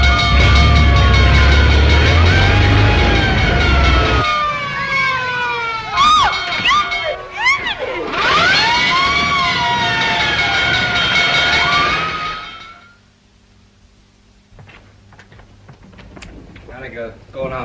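A loud wailing fire engine siren sweeps up and down repeatedly over a rumbling engine, then cuts off and fades to near quiet.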